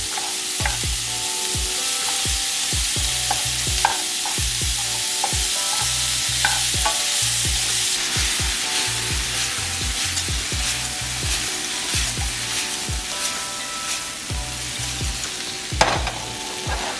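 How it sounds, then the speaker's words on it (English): Chopped vegetables for a shepherd's pie sizzle and fry in a pan, with a steady crackle broken by repeated scraping stirs of a utensil, close and continuous, with no voices over it. "We're just gonna saute those a little bit until they get soft."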